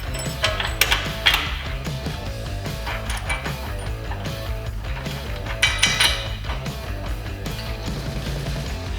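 Metallic clinks and rattles as bolts, washers and serrated lock nuts are fitted along a Toyota Tacoma frame rail, with steady clanking, ratcheting and occasional sharper knocks, fairly close.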